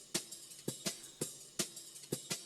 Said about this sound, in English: Here, this percussion loop.